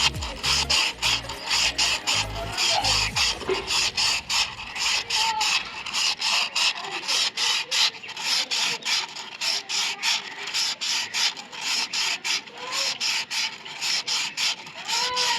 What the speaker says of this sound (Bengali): তো ভিতরটা কিন্তু এখন পালিশ করা হচ্ছে